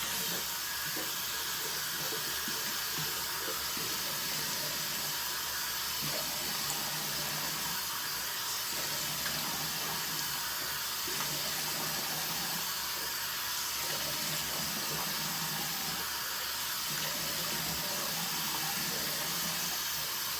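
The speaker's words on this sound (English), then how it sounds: "I'm going to go ahead and splash some more water on my face" Water splashing and running at a bathroom sink, a steady close hiss of flowing water with faint intermittent splashes as water is cupped onto a face before shaving.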